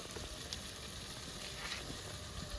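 Ground spice paste sizzles and fries steadily in a pan for a home-style chicken curry, a close, continuous crackling hiss with small pops and no voices.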